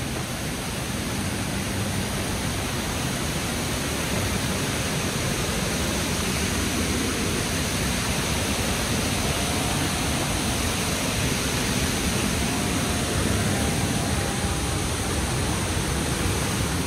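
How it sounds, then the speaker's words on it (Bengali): A roaring river current rushes near a living root bridge in Cherrapunji, Meghalaya, making a steady, loud, broadband wash of water that continues unbroken throughout. "জলের স্রোত দেখলে বুঝতে পারবে আওয়াজ।"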